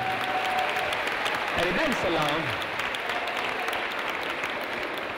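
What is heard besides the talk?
audience applause at an award ceremony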